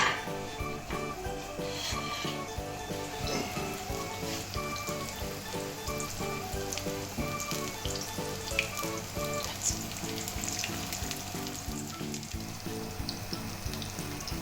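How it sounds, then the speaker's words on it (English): Aloo tikki potato patties fry in a big iron skillet with a steady, dense sizzle like light rain, constant and moderately quiet throughout, with no talking. "So we put the tikkis, we are not going to disturb them, we are going to cook them on each side for about 5 to 7 minutes"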